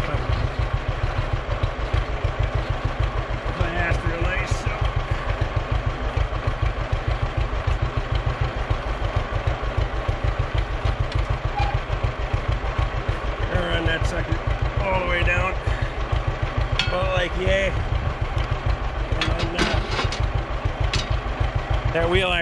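A 1941 John Deere H tractor engine chugs steadily and loudly throughout with a fast, even low-end pulse, with light clatter and a few brief voices over it.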